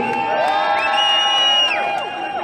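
A crowd of protesters on a Paris boulevard cheers and whoops loudly, with sustained shouted tones and sparse clapping underneath over a couple of seconds.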